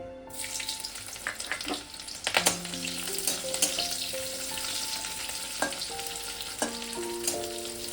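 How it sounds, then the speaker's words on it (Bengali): Sliced capsicum frying in oil for paneer manchurian, a steady close sizzle with crackles and scraping stirs, and faint tonal ringing of utensils throughout, with no one speaking. "এবার আমি দিয়ে দেবো লম্বা করে কেটে রেখেছিলাম ক্যাপসিকামটা দিয়ে দেবো।"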